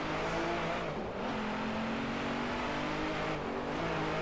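An Aston Martin Vanquish engine in the racing video game DRIVECLUB hums steadily at close range with a constant tone, shifting slightly in pitch as it revs, with no talk heard.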